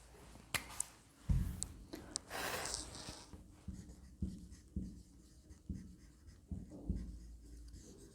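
A pen scratches notes on paper in quiet, uneven strokes and taps, with soft breathing and small handling noises between them.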